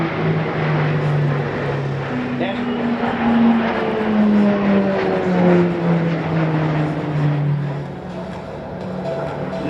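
A Roulettes display aircraft flies past at an Australian airshow with a steady propeller drone whose pitch slowly falls as it passes, loud and continuous over the crowd.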